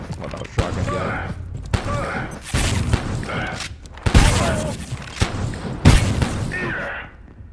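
Shotgun enemy firing in the game Last Epoch: several loud, booming blasts at irregular intervals over a busy game mix, with a voice talking through the fight.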